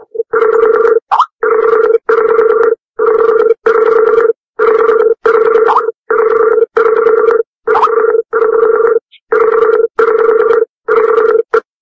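A telephone ringing loudly in repeated short bursts, each burst separated by a brief gap, going on steadily for over ten seconds with no talk over it.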